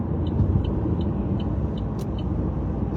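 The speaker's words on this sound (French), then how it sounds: "La circulation est vraiment bizarre ce matin" Steady morning road traffic with many cars makes a dense, continuous roar, with faint air-brake hisses breaking through at intervals; no voices are heard.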